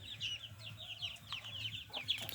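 Several chickens, including Spanish-cross chicks, cluck and chatter close by in quick, overlapping bursts over a low steady hum.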